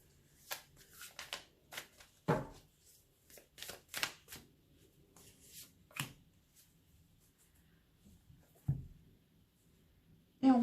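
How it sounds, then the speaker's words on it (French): Tarot cards are shuffled and three are drawn during a reading, giving scattered crisp riffles, slaps and snaps of card on card with quiet pauses between them, close and fairly soft. "Je prends 3 cartes."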